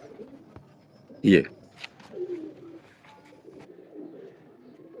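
Soft low cooing of large Ferozpuri crossbreed pigeons comes through a quiet background, with a brief louder flutter and someone speaking a word.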